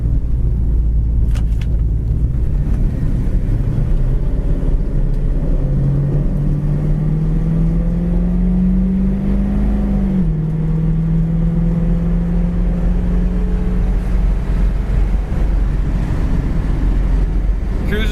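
A 1965 Ford Mustang with a four-barrel carburetor cruises down the road, its engine a steady low rumble with a rising and falling tone, mixed with wind and road noise throughout.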